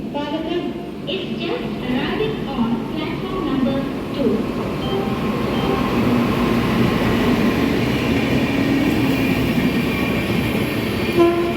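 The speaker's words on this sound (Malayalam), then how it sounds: "കേരള എക്സ്പ്രസ് ഇതാ വന്നുകൊണ്ടിരിക്കുന്നു" The Kerala Express rolls in with a steady, building rumble and a horn sounding, heard from nearby amid platform noise.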